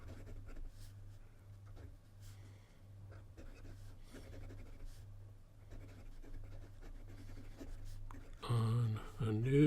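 A Visconti van Gogh fountain pen writing on paper, a slightly dry nib scratching in soft short strokes close up under a low steady hum, with a voice speaking near the end.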